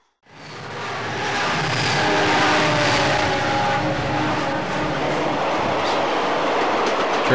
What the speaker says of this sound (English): Train 252 now exits Ty Tunnel